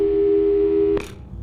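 A steady telephone tone from the Portal 2 video game, loud and alone, holds for about a second before cutting off with a brief click.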